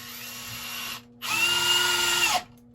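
A Hilti SFE 2-A12 cordless drill/driver runs in two close bursts, a short spin then a longer whine as it drives a 2.5-inch screw into a 4x6 pressure-treated board, winding down sharply at the end.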